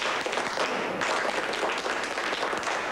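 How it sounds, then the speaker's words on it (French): Staff at a Carrefour supermarket in Xinjiang, China, applaud each other in a dense, steady burst of clapping that fills the whole stretch at close range, with no talk over it. "on va tous s'applaudir"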